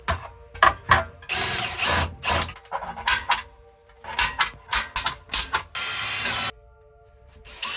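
Power drill boring through metal on a radiator support during welding prep, with repeated short bursts of whining drilling separated by pauses, close and loud, one sustained run near the end.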